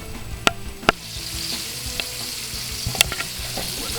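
Pork pieces bubbling in hot oil for sweet and sour pork, a continuous close sizzle with a few sharp pops and clicks scattered across it.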